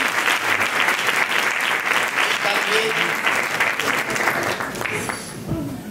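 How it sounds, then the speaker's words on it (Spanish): Audience applause at a town festival event, dense and steady clapping filling the space, with a few voices mixed in and tapering slightly near the end. "le pido también un gran aplauso"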